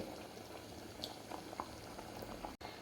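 Egg gravy boiling in a pan on a gas stove, a faint steady bubbling and simmering with occasional soft pops, close and quiet, ending in a brief dropout.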